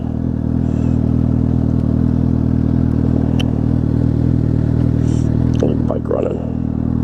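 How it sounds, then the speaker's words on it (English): A Suzuki GSX-S750 motorcycle engine idles steadily and loudly nearby outdoors, a constant low rumble with a few clicks and clatters on top and no sudden revving. "Bike running."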